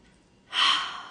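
One deep breath drawn in, a soft airy inhale that swells quickly and then fades, close and alone with no talking.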